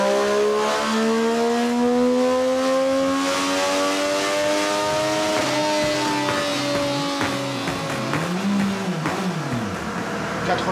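A 2013 Triumph Street Triple motorcycle engine runs on a dynamometer, revving steadily upward in one long, loud pull before easing off and blipping again near the end.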